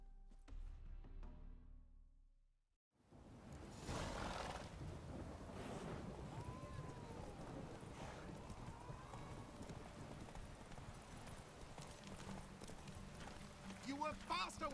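Roach the horse galloping in The Witcher 3: rhythmic hoofbeats with rushing wind, running steadily for over ten seconds after a brief quiet gap, with someone talking over it.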